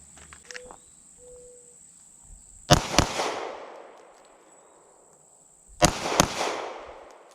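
Two pistol double-taps at an outdoor shooting practice: a sharp pair of loud gunshots, then a second pair a few seconds later, each with a long rolling echo, over a constant insect chirp.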